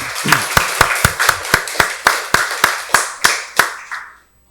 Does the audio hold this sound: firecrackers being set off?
no